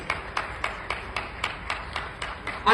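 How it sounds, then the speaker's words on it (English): A few people clapping in a regular, sparse rhythm for a special advisor at a Lagos state government event, about ten distinct claps over a couple of seconds, thin rather than a full crowd. "Can we give him a round of applause"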